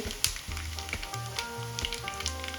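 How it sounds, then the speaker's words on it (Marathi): Coriander seeds, sesame and whole spices fry in hot oil in a pan on a gas stove, a steady close sizzle and crackle with a few light stirring clicks. "आता आपण मसाला तळून घेऊया त्यासाठी गॅसवर तवा ठेवला यामध्ये दोन ते तीन चम्मच ऑइल टाकलं होतं ऑइल पण गरम झालेलं आहे"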